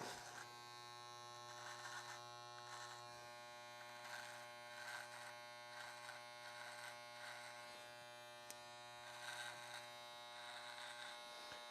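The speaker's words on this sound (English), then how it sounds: "And with your trimmer, never drag down, just make your line" An electric beard trimmer buzzes steadily close up while cutting a chin-strap beard line, its motor hum rising and dipping slightly as the blades press into hair.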